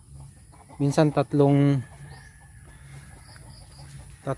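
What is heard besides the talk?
chickens clucking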